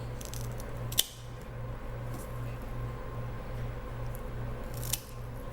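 Scissors snip through philodendron stems while propagating cuttings: two crisp, close cuts several seconds apart, set against a steady low indoor hum.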